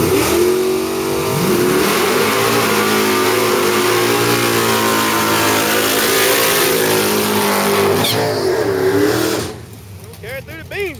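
Two Ford Mustangs, one white and one black, rev hard at a drag race, a loud sustained engine roar with rising and falling pitch that cuts off near the end, leaving quieter engine sound and a brief voice.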